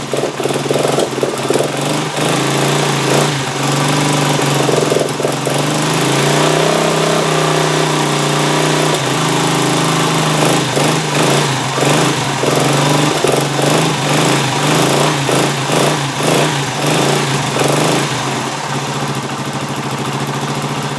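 A restored Honda TL 125 motorcycle engine idles while still cold and warming up, a steady, loud, close burble with slight shifts in pitch that runs the whole time with no talk over it.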